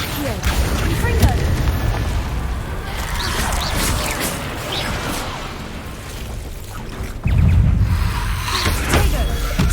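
Confringo spell blasts in the video game Hogwarts Legacy: deep, booming explosions with rumbling, crackling tails that surge in two loud waves under constant battle noise, with a voice speaking throughout.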